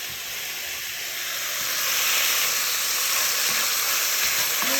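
Pepper steak meat frying in a pan gives a steady, loud, broad sizzle that swells slightly partway through, with no talking over it.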